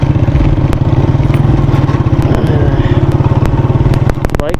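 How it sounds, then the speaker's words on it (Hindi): A Honda CG125 motorcycle labours uphill on a mountain road in Kashmir, its single-cylinder engine thumping in a fast, loud, steady rhythm close by, with a few sharp clicks near the end. "बाइक का खामखा जोर लग गया यार"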